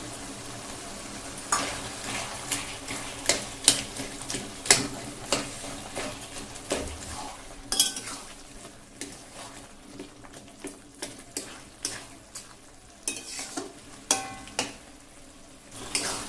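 Taro stems with a broken hilsa fish head are stirred in a pan over a village-style fire, giving repeated scraping strokes in an irregular rhythm over a soft, steady sizzle.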